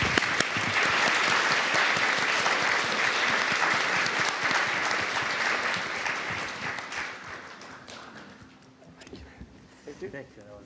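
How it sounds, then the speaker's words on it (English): Audience applause at a geoeconomics summit, a dense sustained wave of clapping from a large crowd that gradually thins and fades toward the end. "please join me with a big round of applause for their wonderful presentations"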